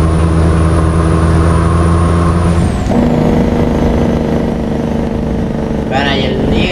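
An International 9400 truck loaded with 38 tons of scrap rumbles steadily at close range while shifting gear, the engine note dropping mid-clip before a hiss of air near the end; someone talks over it.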